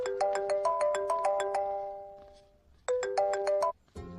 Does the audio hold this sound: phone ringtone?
yes